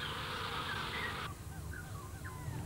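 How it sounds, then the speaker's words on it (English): Bees buzz steadily around a flower in a garden, a close, continuous insect drone that cuts off partway, leaving faint chirps and background hum. "The bees arrive and buzz around."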